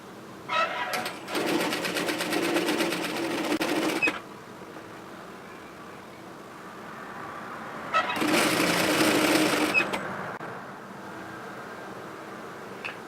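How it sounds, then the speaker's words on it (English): A sewing machine stitches a hoodie seam in two loud bursts of rapid motor-driven stitching, each a few seconds long, separated by a quieter pause with faint handling noise. "and continue sewing."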